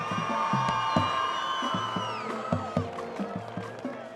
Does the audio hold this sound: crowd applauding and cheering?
yes